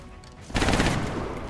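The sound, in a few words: gunfire in the video game XCOM: Enemy Unknown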